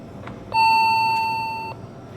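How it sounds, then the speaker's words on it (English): A hydraulic elevator bell in the Eller College Building at the University of Arizona in Tucson gives one clear ding that rings for about a second and fades, over a quiet room hum. "we'll ring the bell one more time."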